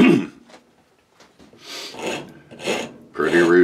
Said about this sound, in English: I'll show you some of the rasp work.